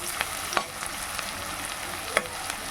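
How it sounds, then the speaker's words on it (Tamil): Small onions and green chilies sauté in oil in a pan for a Chidambaram kothsu, a soft continuous sizzle with a few light clicks of a stirring spoon against the pan. "ஒரு 100 கிராம் சின்ன வெங்காயமும் பச்சை மிளகாவும் சேர்த்துக்கலாங்க. நல்லா வதக்கி கொடுங்க."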